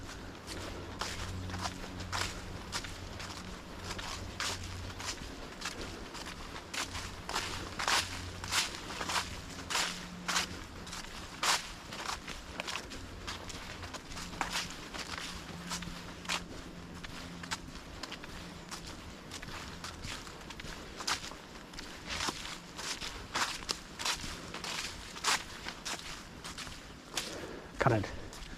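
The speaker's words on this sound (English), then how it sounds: "Can't excuse the noise of the walking. It's all crispy leaves." Footsteps crunch through crispy autumn leaves on a countryside trail, a steady run of close, crackly steps that continues throughout at moderate volume, with someone talking intermittently over them.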